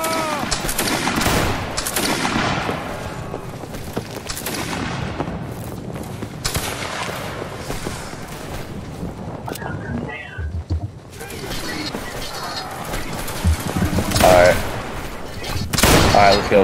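Volleys of musket fire from Saxon fusiliers crackle through a Napoleonic line-battle video game, dense overlapping shots rolling on beneath steady talking, with a sharper, louder burst near the end.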